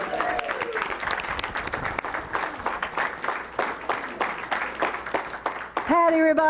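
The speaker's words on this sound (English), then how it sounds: "applause to Keith Vivens" Scattered hand claps and whoops from a congregation at a Sunday celebration service right after a prayer song, uneven and moderately close, fading out as a voice begins speaking and music tones enter at the very end.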